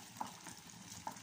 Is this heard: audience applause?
no